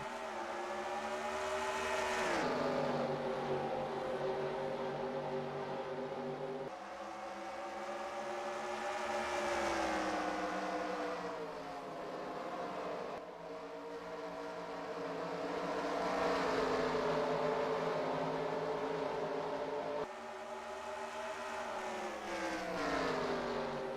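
Dirt race cars racing on the Oswego track in a racing video game, engines droning continuously with repeated rising and falling pitch sweeps as the cars circle the track, steady and fairly loud, with no talking.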